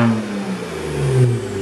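A turbocharged BMW 335i engine revs steadily in a short, loud, close burst, with a continuous mid-range drone that rises slightly in pitch.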